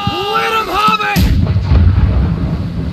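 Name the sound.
ship cannons firing in the video game Blackwake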